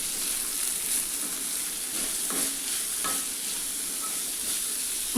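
Sliced beetroot frying in a pan with salt, a steady close sizzle broken by a few scraping stirs of a spoon, continuous and fairly quiet with no talking.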